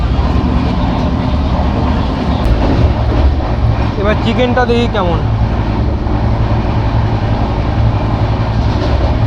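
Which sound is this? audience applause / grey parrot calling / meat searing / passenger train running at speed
passenger train running at speed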